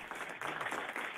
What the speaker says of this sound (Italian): partono gli applausi perché stanno applaudendo ogni passaggio